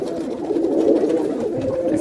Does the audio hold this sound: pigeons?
yes